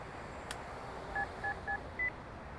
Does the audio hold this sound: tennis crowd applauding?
no